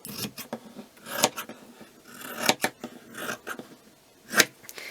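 Scissors cutting cheat quilt wadding in half, close and fairly soft, with several crisp snipping and rasping strokes spaced irregularly between quieter rustling of the fabric.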